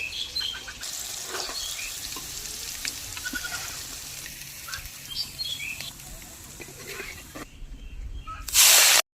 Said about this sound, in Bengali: মাছগুলো আমি দুবারে ভেজে নিচ্ছি